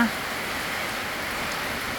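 Heavy rain pours down at a home in Thailand amid gusty wind, a steady, dense hiss filling the whole stretch without letup.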